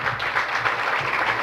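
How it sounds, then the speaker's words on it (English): Audience applause at a youth symposium on Industry 5.0 and holistic wellness, a steady wash of many hands clapping throughout, fairly loud and continuous with no talk over it. "Give him a big round of applause."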